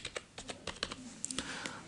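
Quick bursts of keystrokes on a computer keyboard while entering a search for an app on a Windows PC, irregular clicky taps close to the mic at moderate level, with no talking.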